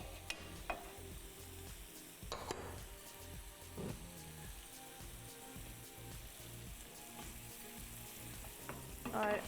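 Chicken stir-frying in a pan with soy sauce and chili sauce, giving a steady low sizzle with scattered scraping clatters from the spatula, close by and fairly quiet, no talking.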